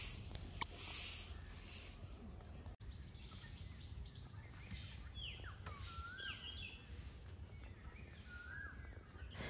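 Birds calling by a lake on a cool morning at a resort, several short chirps and whistled calls scattered at middle distance over soft outdoor ambience.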